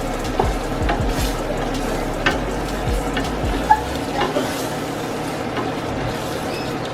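Garlic cloves fry in a pan with a steady, dense sizzle and crackle that carries on for several seconds, close and fairly loud, with an occasional faint knock of a utensil.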